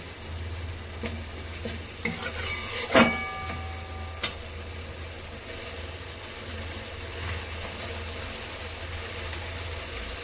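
A spoon scrapes and stirs chopped tomato through egg and pointed gourd korma in a sizzling pan, with a few sharp clanks early on, then steady, quieter frying.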